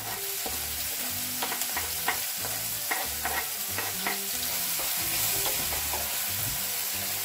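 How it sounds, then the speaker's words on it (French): Garlic and green onion sautéing in a pan over lowered heat, a steady sizzle broken by the scrape and clink of stirring, close and moderately loud with no talking. "On va faire revenir l'ail, la troisième gousse d'ail."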